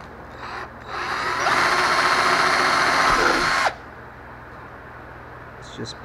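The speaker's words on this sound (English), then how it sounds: "So let's drill some holes right in the middle." Power drill boring a hole through a thin plastic car tail light with an 11/64 bit, a whining buzz that runs for a few seconds and then stops abruptly, close up over a steady background hum.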